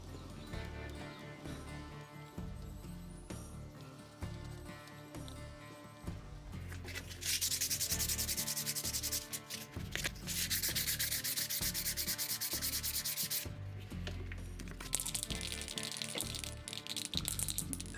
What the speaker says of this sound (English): And plus you can sand it down and make it look really smooth and pretty.